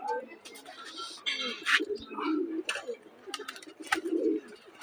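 Home-kept pigeons coo in a steady low murmur, with scattered sharper bird calls and someone talking over them nearby.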